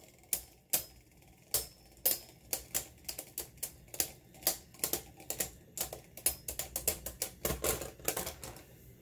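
Beyblade spinning tops clash in a plastic battle stadium, giving a rapid, irregular run of sharp metallic clicks and ticks that keeps going throughout, close and fairly loud.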